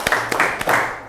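Students in a class clap for a group that has just finished presenting, a short, fairly loud flurry of overlapping claps that tapers off quickly.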